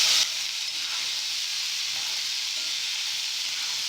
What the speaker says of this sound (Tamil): அப்படியே பெரிய உள்ளி, போட்டு நல்லா வதக்கி விட்டுடலாம்.